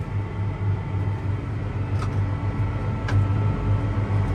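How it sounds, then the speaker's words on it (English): A tractor engine running poorly, a steady low rumbling drone with a throbbing hum, close and continuous, broken only by a couple of faint clicks. "Tractor's not running right."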